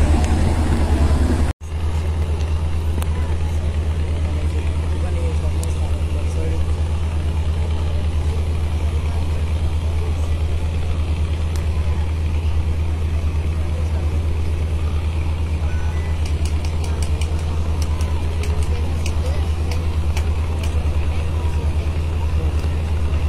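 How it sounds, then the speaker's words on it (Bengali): Passenger launch Sundarban 8 pulls away from the Patuakhali launch terminal, bound for Dhaka, its heavy diesel engine droning low and steady throughout with constant hum and faint background chatter from the crowded ghat. "পটুয়াখালী লঞ্চ টার্মিনাল থেকে লঞ্চগুলো ছেড়ে যাচ্ছে"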